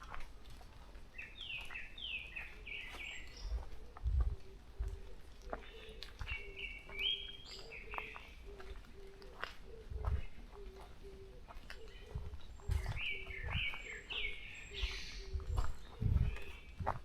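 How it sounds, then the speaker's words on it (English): A loud, noisy bird calls in repeated bursts of chirping phrases in a morning outdoor setting, with steady low background hum, occasional thumps and a faint voice speaking. "there's a noisy bird"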